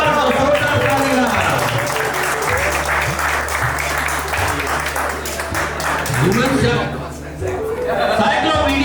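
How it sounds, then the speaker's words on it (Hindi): Loud, sustained applause from a crowd at a wedding mehendi celebration, with voices and a low tonal hum running beneath the clapping and a brief dip near the end. "एक बार तो जोरदार तालियां।"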